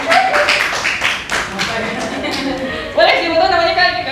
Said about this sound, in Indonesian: Wih, tepuk tangan buat kakak kita.